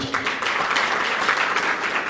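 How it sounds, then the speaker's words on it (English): Brief round of audience applause at the Rwanda Internet Governance Forum, a short burst of dense clapping in a conference hall, fairly close and steady. "Another round of applause for our CEO."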